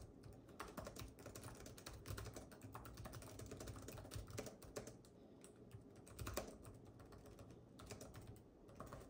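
Steady, quiet typing on a Lenovo Legion laptop keyboard, a continuous patter of key clicks with no talking.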